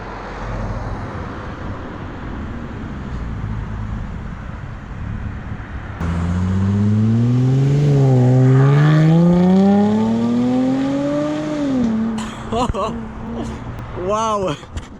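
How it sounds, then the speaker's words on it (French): At a supercar rally, a Jaguar F-Type sports car revs hard and accelerates past, its rising engine note swelling loud through the gear changes before fading, followed by sharp crackles, with traffic noise and onlookers talking throughout. "Et voilà la F-Type bien énervée."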